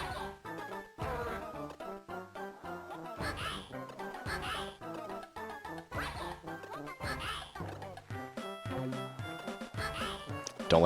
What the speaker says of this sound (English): Don't let that seagull distract you.